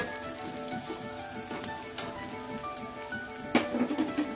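Egg biryani stirred in a pot, giving a steady broad sizzle with faint scraping, then a louder clatter of the spoon near the end, no voices.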